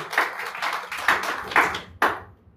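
Scattered hands clap in a church congregation during an Indonesian-language sermon, a few close, uneven bursts of clapping spaced about half a second apart, fading out after a final sharp clap.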